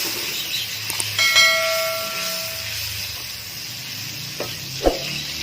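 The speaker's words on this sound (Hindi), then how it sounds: "ये हमारी मिर्च जो है फ्राई हो गई है।" Chilies frying in oil for beef korma, a soft steady sizzle under light kitchen clatter, with a brief tonal ring and a couple of sharp utensil knocks near the end.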